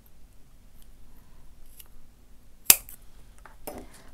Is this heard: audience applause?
no